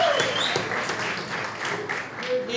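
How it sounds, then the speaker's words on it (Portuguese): A youth conference audience applauds in a church, a dense continuous wash of clapping that stays fairly steady throughout, with faint voices underneath. "Vamos dar uma salva de palmas aí para o John Snow."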